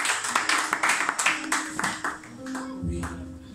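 A church congregation at a Sunday worship service clapping and cheering in acclamation of Jesus Christ, a dense burst of hand claps and voices that thins out toward the end, leaving a sustained low murmur.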